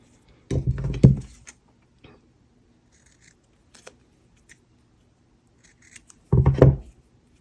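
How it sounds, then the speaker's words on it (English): Scissors snip off a piece of a DT craft project, little paper houses, in two loud bursts of close cutting separated by a few faint taps and rustles. "So I'll cut that off."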